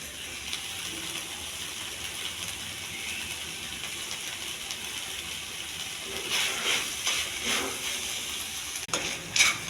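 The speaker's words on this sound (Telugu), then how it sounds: "ఇది కొంచెం బాగా ఫ్రై చేసుకోవాలండి." Steamed ivy gourd frying in a pan with peanut powder gives a steady soft sizzle and hiss, with stirring scrapes and brief clatters growing louder toward the end.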